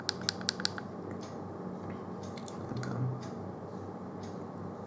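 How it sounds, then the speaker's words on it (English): Five rapid, crisp clicks from the fire button of an Encom VoidRay 60-watt box mod, close and quiet, bunched at the very start; a few fainter ticks follow over a low, steady room hum. "5 clicks to turn it on."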